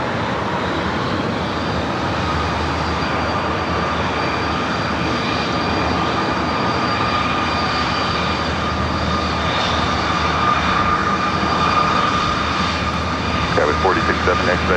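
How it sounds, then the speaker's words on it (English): A heavy jet lands at LAX, its engines a loud, steady, broadband roar with a sustained whine that holds for the whole stretch and swells slightly near the end. "Next heavy arrival here on the north side."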